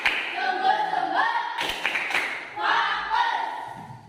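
A teacher leads a classroom focus-clapping routine: bursts of rhythmic hand claps mixed with chanted voices, fairly close and moderately loud.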